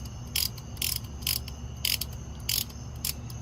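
A brake caliper piston tool is tightened by hand on a Honda Accord 9th Gen, giving six crisp ratcheting clicks at a steady pace, close and fairly quiet, with no talk.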